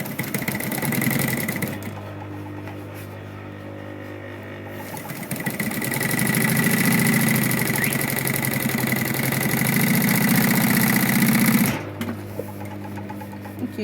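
A sewing machine top stitches a quilted zipper purse in long continuous runs, a close mechanical whir that pauses briefly and then resumes before stopping.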